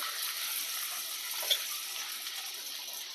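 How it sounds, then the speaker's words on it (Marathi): Finely chopped onion frying lightly in a pan, a soft, steady sizzle with a brief small pop partway through, fairly quiet and without voices. "कांदा खूप आपल्याला लाल करायचा नाही, हलकासा फक्त परतून घ्यायचा आहे"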